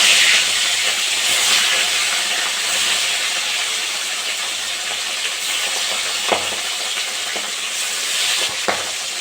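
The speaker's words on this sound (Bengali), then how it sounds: "বাকি মাছগুলো আমি একইভাবে ভেজে নেব" Rohu fish steaks sizzle steadily in hot mustard oil in a kadai, a constant bright hiss with a few sharp clinks of a utensil toward the end.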